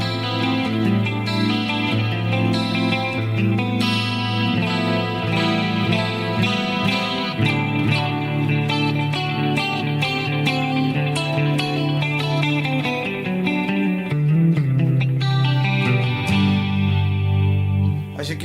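Clean electric guitar through a Roland JC-120 amp, chords and single notes ringing out with a shimmering chorus, echoing delay and spacious reverb, played continuously and fairly loud.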